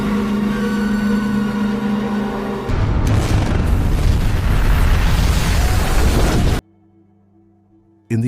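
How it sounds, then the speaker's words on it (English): A nuclear fusion bomb detonates at the sun's surface in a film scene, a massive sustained roaring boom that swells over a tonal score, then cuts abruptly to a faint low hum. "activate the nuclear fusion bomb, which ultimately exploded just as the payload reached the sun's surface"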